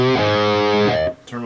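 Distorted electric guitar through a Fractal FM3 drive effect, a loud sustained chord that cuts off abruptly and then returns as the drive is toggled.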